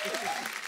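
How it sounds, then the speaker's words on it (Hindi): Studio audience on a Hindi comedy talk show claps loudly for the Rocket Boys series cast, a brief dense burst of applause with crowd noise and a voice faintly audible underneath. "जोरदार तालियां हो जाए रॉकेट बॉय के लिए"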